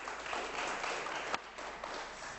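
Studio audience applause on a Turkish television word game show, dense continuous clapping from a crowd at moderate level with no voices over it.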